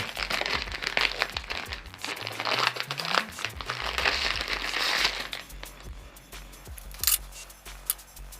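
Adhesive wound dressings being handled and prepared, with close crinkling of packaging and paper backing, soft peeling and rustling in bursts, a few sharper crackles, and no talking.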